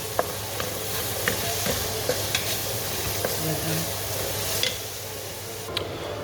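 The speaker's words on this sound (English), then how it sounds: "keep mixing until golden brown" Vegetables for pilau rice sizzle steadily as they fry in a pan, with the spoon scraping and clicking through the stir at irregular intervals, close and continuous.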